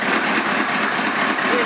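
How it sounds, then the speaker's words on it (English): A 1971 truck engine runs with a muffler holed in three places, giving a steady, loud, raspy exhaust drone close by with no break. "Well, I think the engine still sounds good."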